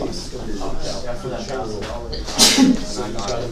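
A single short sneeze bursts out amid casual conversation, close and brief, with talking continuing around it.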